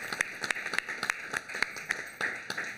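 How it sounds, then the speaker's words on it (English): Audience applause for a mayor at an education event: light, steady clapping with sharp, evenly spaced claps, fairly faint and without cheering. "please join me in giving the mayor a round of applause for his vision and leadership in this area"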